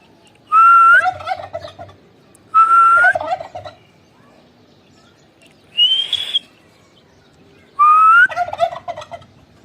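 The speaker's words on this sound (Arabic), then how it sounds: "طبعا ده الرومي بقى." Black turkey gobbling outdoors, four loud, close gobbles spaced a couple of seconds apart over a quiet background.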